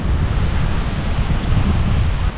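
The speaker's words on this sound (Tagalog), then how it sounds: "Lakas ng hangin!" Strong gusty wind roaring across a microphone outdoors near a lahar lake and old mines in Zambales, a continuous heavy rumbling buffet with no speech.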